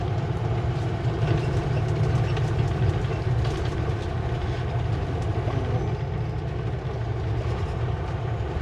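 A truck's engine brakes rumble loud and steady, a deep low drone with a throaty, train-like roar that holds for the whole stretch without pause.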